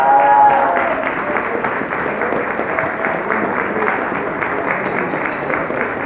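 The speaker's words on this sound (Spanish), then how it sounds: "el aplauso fuerte para nuestra queridísima Paloma Reyes" Steady audience applause at a club anniversary celebration fills the space, many hands clapping evenly at moderate loudness with no voices standing out.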